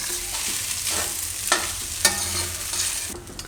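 Sweet poha with dry fruits and coconut is stirred in a pan over a low flame, a soft continuous sizzle with a few sharp spoon knocks against the metal.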